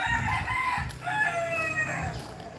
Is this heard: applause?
no